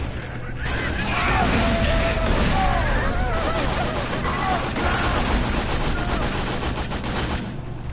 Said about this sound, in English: right off the bat, you're gonna get grenaded